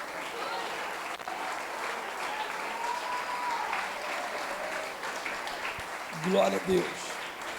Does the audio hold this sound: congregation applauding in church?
yes